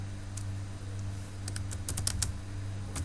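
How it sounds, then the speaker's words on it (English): Typing on a computer keyboard, entering a REPEAT command in MSWLogo: quiet, irregular key clicks, sparse at first and then clustering into a quicker run of taps over a steady low hum, with no talking. "now in this input I will type repeat"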